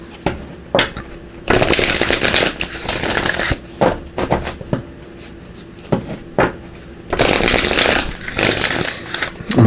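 Power of Surrender oracle cards being shuffled by hand: bursts of papery riffling and slapping that start and stop in several long runs, fairly close and loud, with no talking.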